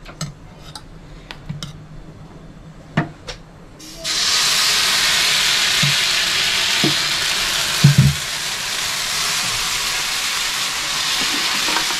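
Coconut dosa batter hits an oiled griddle on medium gas after a few light clinks and taps, then a loud, even sizzle and hiss carries on steadily to the end.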